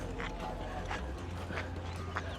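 A horse-like animal, somewhere between a horse and a donkey, clops its hooves on the ground in India in a few distinct, evenly spaced strikes over steady low background rumble.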